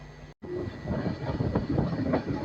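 The Nanded–Visakhapatnam weekly special rumbles steadily along the rails, a dense continuous roar with faint rhythmic clatter, heard from inside the moving carriage.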